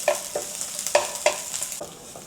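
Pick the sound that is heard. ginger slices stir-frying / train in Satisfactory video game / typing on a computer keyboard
ginger slices stir-frying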